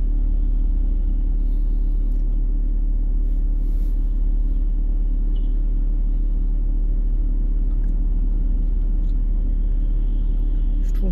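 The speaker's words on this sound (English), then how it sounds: "watch the car on the other side" A car travelling fast around a busy dual carriageway roundabout, heard from inside another vehicle as a steady low road rumble and engine drone throughout, with no talk.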